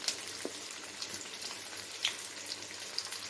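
Garlic and curry leaves frying in a pan, a soft, even crackling sizzle with a few sharp pops and ticks, close but fairly quiet and without talk.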